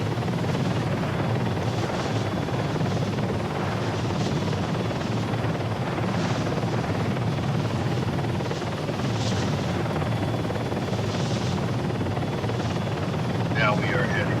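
Helicopter flying over the islands of Tanoa in a video game, a constant close rotor thrum and engine drone that stays loud throughout, with a voice talking over it.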